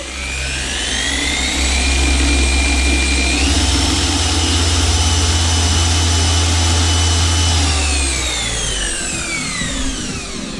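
A car polishing machine spins up with its polishing pads fitted, a steady loud motor whine that rises in pitch midway, holds, then winds down near the end, with no talking.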